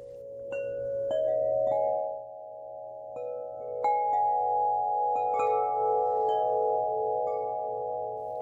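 A 50-inch Wind River Eclipse Collection wind chime sounds deep, lingering tubular tones, with new strikes layering over long sustained resonance, close and steady with no one speaking.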